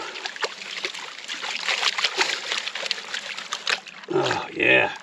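Water sloshing and trickling over gravel in a gold pan being washed out, with soft irregular swishes followed by a few louder splashy slops near the end.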